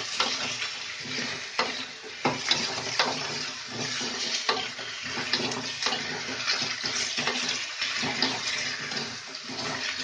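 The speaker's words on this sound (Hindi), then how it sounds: "अब बस यहाँ पर इसमें मुझे आंबी डालनी है। इन्हें अच्छे से मिक्स कर लेना है।" Fried onions and raw green mango being stirred together in a pan in a village kitchen: a steady close sizzle broken by repeated scraping stir strokes, with no talking.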